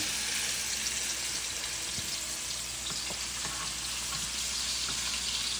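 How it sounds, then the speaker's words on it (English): Stuffed pork chops sizzle in a hot frying pan, a loud, steady crackle and hiss heard up close with occasional pops and no talking. "now we're gonna fry up the pork chops"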